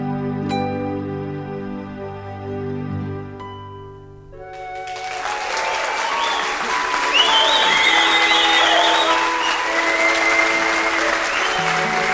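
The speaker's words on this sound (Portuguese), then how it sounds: "Os aplausos foram pelo seu aniversário." Sustained musical tones play, then give way to a crowd's loud, continuous applause that carries on to the end.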